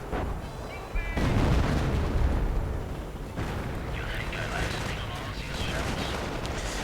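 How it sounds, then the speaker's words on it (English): Hummel self-propelled artillery fires in a World War II strategy game battle, heavy booming blasts rolling over a dense din of gunfire and combat noise, with a commentator talking throughout. "And there we go, Hummel firing."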